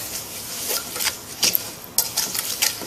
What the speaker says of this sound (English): So just give it a light little mix